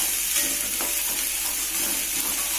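Chicken intestines, liver and gizzards frying in a pan with spice paste give a loud, steady hiss of sizzling oil with faint stirring throughout.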